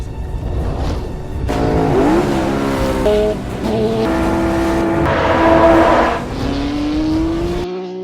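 Lotus 49 race car in the rain at Spa 1966 in Assetto Corsa, its engine note rising and falling through gear changes and revs, loud and close throughout with a steady hiss of spray underneath.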